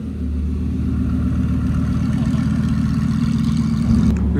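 A white Lamborghini Gallardo with carbon extras idles at a supercar meet in Cape Town, its deep, steady engine rumble very loud and close, running continuously without a break.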